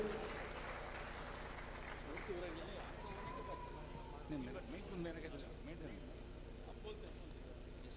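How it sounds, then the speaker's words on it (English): An audience applauds at a state-level conference of district chambers of commerce and industry, a steady, fairly faint patter of clapping with a voice speaking over it. "Big round of applause to these people."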